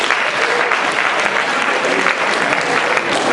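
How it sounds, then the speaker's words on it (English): A hypnosis show audience at a 2013 Project Grad event breaks into loud, dense, sustained applause that fills the room steadily from start to finish. "By applause, how many of you guys have ever seen a hypnosis show before?"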